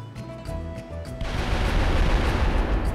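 A bomb goes off in Wild Arms 3, a dense roaring blast with low rumble erupting after a brief musical passage and sustaining loudly to the end.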